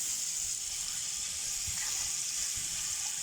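Black pepper and white cumin frying in hot oil in a pan, giving a steady, even hiss of sizzling that holds at one level for the whole few seconds with no talking.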